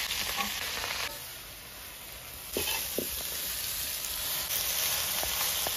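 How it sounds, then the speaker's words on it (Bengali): Pumpkin leaves tipped into hot oil tempered with dried red chilli and black cumin (kalo jeere), giving a steady close sizzle with a few louder bursts of crackle as they hit the pan. "কালো জিরে ফোড়ন দিয়ে শাকটা ঢেলে দেবো।"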